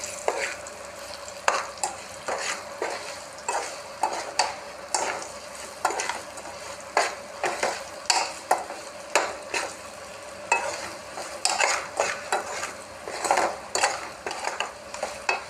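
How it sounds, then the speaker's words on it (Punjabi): Green chillies frying in a pan, dhaba style, as spices are stirred through them; repeated scraping strokes of a spoon against the pan ring out in an irregular rhythm over a steady sizzle, close and alone with no voices. "ਹੁਣ ਆਪਾਂ ਇਸ ਨੂੰ ਚੰਗੀ ਤਰ੍ਹਾਂ ਮਸਾਲਿਆਂ ਨੂੰ ਮਿਕਸ ਕਰ ਲਾਂਗੇ"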